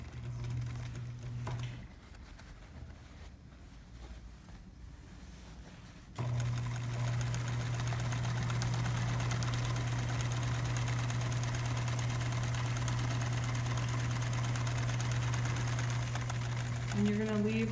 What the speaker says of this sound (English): And then you're gonna sew a 1/2 inch seam.